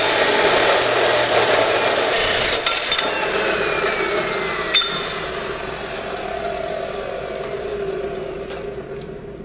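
A power saw cuts pieces to length while EZ-Drops are fitted on a RoGator sprayer, giving a loud, steady grinding whine that runs almost unbroken throughout, with no talking.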